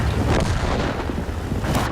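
Heavy booming tank cannon blasts from a TVP T 50/51 autoloader roar continuously, loud and close, with rumbling explosions layered over each other in World of Tanks-style game combat.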